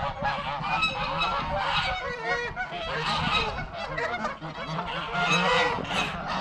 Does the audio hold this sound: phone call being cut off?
no